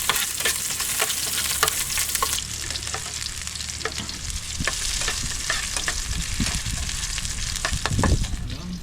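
Garlic and corned beef fry in a hot pan with a steady, loud sizzle, broken by frequent clicks and scrapes as the mixture is stirred.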